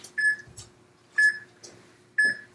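A workout interval timer gives three evenly spaced electronic beeps about a second apart, clear and close, with no talking over them.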